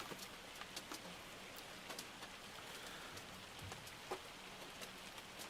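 Hail striking a vehicle in the Farming Simulator game on the Uncharted Valley map, a faint dense patter of many small hits with scattered sharper taps, steady and quiet, with no talking.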